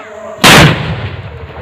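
A Diwali firecracker bomb goes off with a single sharp, very loud blast that decays quickly into a rumbling tail, after a short quiet lead-in.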